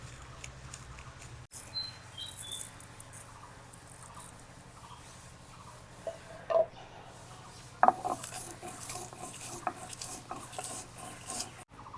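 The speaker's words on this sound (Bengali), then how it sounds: "ভেজে রাখা মশলাটাকে শিলপাটায় গুঁড়া করে নিব" Roasted spices being ground on a shil-pata grinding stone, heard as a soft, continuous rasping and rubbing with a few sharper scraping knocks, close and fairly quiet.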